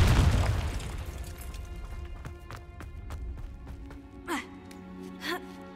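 A Confringo explosion spell in the Hogwarts Legacy video game opens with a loud booming blast that decays over a couple of seconds, followed by quieter clicks, thuds and two brief whooshing effects.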